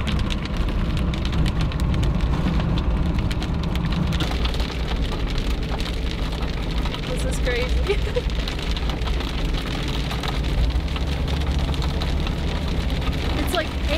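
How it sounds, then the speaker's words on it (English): Hail-like snow pelting the windshield of a 37-year-old truck near the Grand Canyon, a dense, continuous patter of icy hits drumming close on the glass, with a person briefly exclaiming over it. "It's like hail."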